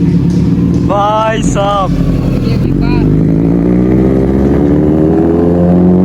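A Kawasaki Ninja Z900 superbike engine idles loud and close with a steady low rumble, its pitch rising briefly in short revs, while someone speaks over it.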